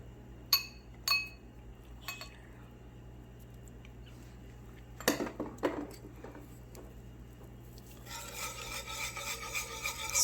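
Block cheese shredded on a metal grater, a steady raspy rubbing that builds toward the end, preceded by a few sharp clinks and a brief scrape, close and with no talking.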